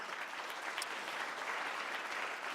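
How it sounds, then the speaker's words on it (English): Audience applause at a conference following a speaker's remarks, a steady dense wash of many hands clapping at moderate distance, fairly even in level throughout with no voices over it. "Please give him a round of applause."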